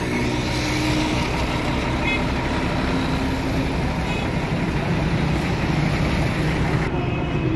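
A blue Al Madina transport truck loaded with goods in Pakistan gives off a steady, loud engine rumble and road noise that runs unbroken from start to finish, close by, with no voices.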